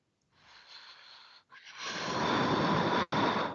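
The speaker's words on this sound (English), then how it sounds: "Why you are blowing your nose?" A person forcefully snorts and blows air through the nose, starting with a softer stretch of rough breathy noise and building into a louder, sustained blast. Two sharp pauses split the sound, and it is heard close and alone.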